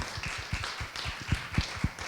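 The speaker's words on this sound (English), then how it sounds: "Let's give her a round of applause." Audience at an academic talk on aesthetics and spirituality giving a short round of applause, sparse distinct hand claps at an uneven rhythm, fairly close and moderately quiet.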